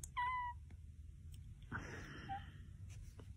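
A pet cat gives a short, clear meow near the start, followed by a fainter, breathier cry later, over quiet room background with no talk.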